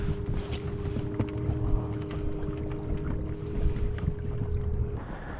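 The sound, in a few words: boat moving with Minn Kota electric trolling motor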